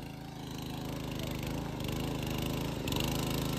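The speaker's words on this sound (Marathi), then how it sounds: "ट्रॅक्टर काम चांगलं करतोय." A petrol tractor engine chugs steadily in a farm field with a continuous low rhythmic rumble, moderately near, with a brief bump in loudness toward the end.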